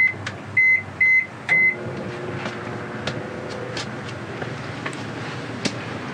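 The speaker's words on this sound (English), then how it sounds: "let's try the microwave." Three short electronic beeps, then the steady low hum of a microwave oven running on a portable power station and drawing 1,400 watts, with faint clicks over the drone.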